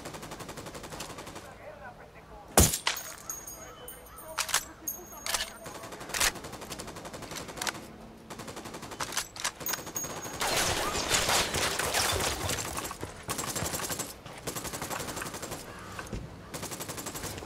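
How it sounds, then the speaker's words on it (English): Gunfire in the video game Ghost Recon Wildlands: a loud single shot, then scattered shots and sustained bursts of automatic fire, with a voice speaking briefly over the action. "Opening fire."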